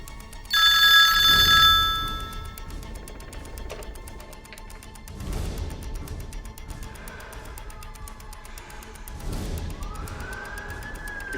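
A loud electronic ring bursts briefly at the start, followed by quieter repeated rings spaced apart, each trailing off, with no speech.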